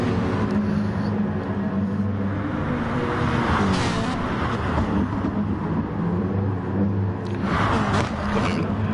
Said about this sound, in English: Iggy nearly losing the car there